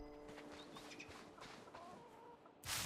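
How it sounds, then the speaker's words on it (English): Chickens cluck and chatter in a DragonWilds farmyard, a cluster of short, quiet bird calls over a soft musical hum, ending with a burst of noise. "Lots of chickens. You guys are mad at me too?"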